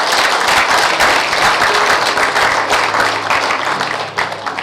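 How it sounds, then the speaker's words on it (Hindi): An audience at a Hindi spiritual discourse breaks into loud, sustained clapping, a dense patter of many hands close by that tapers off slightly toward the end. "अब तुम ताली बजाते हो इस बात पे"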